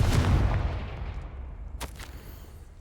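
A Confringo blasting spell in Hogwarts Legacy detonates with a heavy, booming game explosion that starts loud and rumbling, then decays into a long fading roar with a couple of sharp debris cracks near the end.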